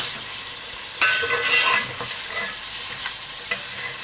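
Chicken sizzling and frying in a pot for Sindhi biryani, a spoon scraping and stirring, several sharp clanks of utensil against metal over a constant crackle.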